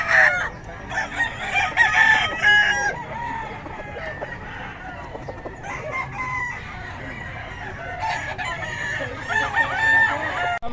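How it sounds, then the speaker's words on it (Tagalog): Gamefowl roosters from Taguig crow repeatedly, several long, strained calls overlapping and trading off at close range over a busy, noisy background. "Mga manok nito."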